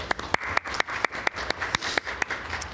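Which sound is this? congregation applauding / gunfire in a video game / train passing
congregation applauding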